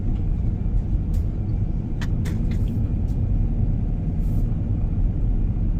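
Car cruising a hilly back road in northern South Carolina near North Carolina, a steady, loud low rumble of engine and road noise from inside the vehicle, with a few faint clicks and no talking.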